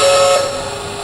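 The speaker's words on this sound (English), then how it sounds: "Okay, let's try the whistle." Steam whistle of a Lionel LionChief Plus 2-8-2 Mikado toy train, Southern Railway #4501, sounds as a single sustained, fairly loud tone that fades slightly toward the end, with no talking.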